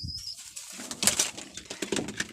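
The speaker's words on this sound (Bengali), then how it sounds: "এই যে হচ্ছে একটা ছাকি টেডি কবুতর, একটা ছাকি টেডি কবুতর নর।" A male Chaki Teddy pigeon coos briefly in a loft, a few soft low calls close by, with some rustling and faint wing movement around them.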